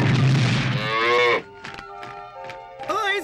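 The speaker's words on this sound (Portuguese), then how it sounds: "Uma vaca!" A cartoon cow in a Smurfs animated episode gives one loud, drawn-out moo that stops abruptly, followed by quieter tonal cartoon sounds and a brief high vocal squeak.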